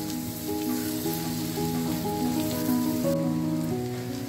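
Finely chopped garlic sizzles in oil with cumin in a pan for paneer bhurji, a steady, dense crackling hiss heard close up without interruption and with no voices.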